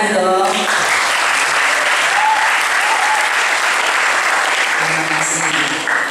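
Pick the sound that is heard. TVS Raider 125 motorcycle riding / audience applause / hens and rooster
audience applause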